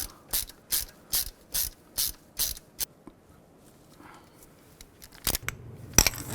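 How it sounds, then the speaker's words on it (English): A hand ratchet snugs down an exhaust manifold bracket bolt on a 2000-06 Chevy Tahoe, giving about eight evenly spaced, close, crisp clicking strokes, then a pause with faint handling noise and a few sharper clicks and clanks at the end. "line up the bracket, put the bolt back in. And snug it down"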